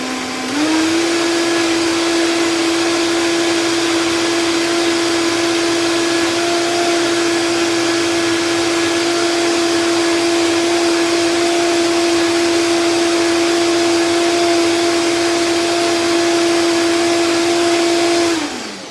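A blender purees cooked winter squash in one steady, loud motor run of about eighteen seconds, holding a constant whine from start to finish before cutting off, with no talking.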